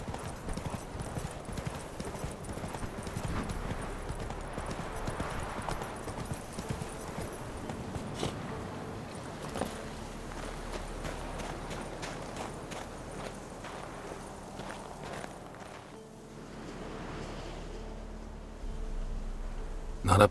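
Horse hooves pounding along in The Witcher 3 video game, a continuous run of clip-clopping beats at a moderate level that carries on for about twenty seconds, briefly easing near the end before picking up again.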